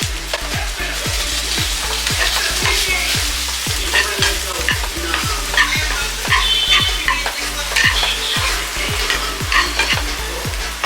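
Garam masala is stirred into food frying in a pan, with a spoon scraping in quick, regular strokes about twice a second over a continuous close sizzle, and no voices.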